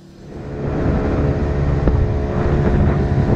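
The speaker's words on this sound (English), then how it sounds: "lovely day, lovely conditions for a rib ride" A RIB boat runs across the water in Greece on a calm day, its engine roar steady and close with wind buffeting the microphone.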